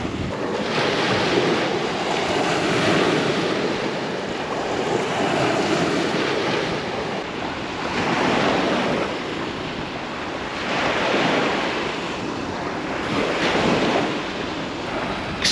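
Black Sea waves wash onto a beach in Crimea in slow repeating surges, with steady wind rushing over the microphone.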